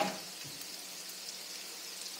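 Spaghetti squash fries in a pan with butter, olive oil and garlic, giving a soft, steady sizzle that starts with a brief clatter as it drops in, then carries on evenly with no voices.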